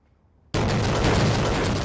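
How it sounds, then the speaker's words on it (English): In news footage from Gaza, a sudden loud blast breaks a near-silence, followed by a sustained heavy roar that stays loud to the end. "This morning, explosions in Gaza, smoke and flames rising from multiple blasts."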